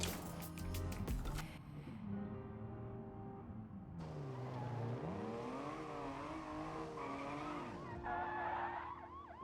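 A BMW in the BeamNG Drive video game pushed to maximum speed, its engine note climbing and shifting through gears with tire squeal and skidding, loud and alone without talk.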